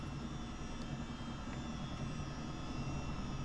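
Twin engines of a Chinook helicopter at takeoff power in Microsoft Flight Simulator, flying into a strong headwind under a low cloud base: a steady, even engine drone that holds without change throughout, with no talking.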